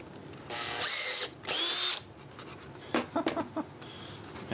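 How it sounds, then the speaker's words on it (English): A power drill with a large bit bores through a Honda Grom motorcycle part, whining loudly in two short bursts, then a few faint clicks and knocks follow as the tool settles. "that big drill bit was much easier than the small one"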